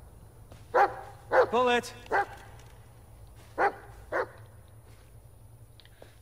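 Dog barking in the Blair Witch video game, several sharp barks in short bursts, one a quick double yap, spread across a few seconds under a steady low hum, with a man briefly calling out at the start.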